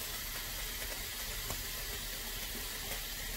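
Hot water pours steadily over dried tripe (matumbo) in a kitchen, a continuous splashing, hissing flow that stays close and fairly loud, with no voices over it.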